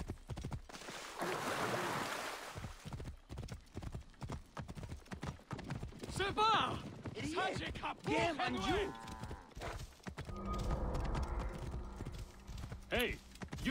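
Rapid clip-clop of horse hooves at a gallop in the video game Assassin's Creed Origins, steady and close, with someone talking over much of it and a brief whinny-like sound.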